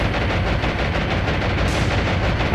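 Japanese warships in the naval video game War on the Sea throw up anti-aircraft fire, a dense, steady roar of continuous gunfire and rumbling blasts with no break.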